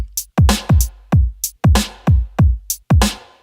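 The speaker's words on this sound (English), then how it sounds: "And then this is the kit." Drum kit part from a music production mix: punchy kicks and sharp snare or hat hits in a tight repeating groove, dry and close, with no other instruments.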